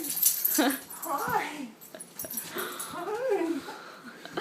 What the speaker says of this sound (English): Oh, Sam, she's breathing so hard.